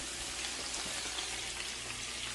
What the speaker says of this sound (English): salt and pepper shrimp frying up. These things are sauteing up.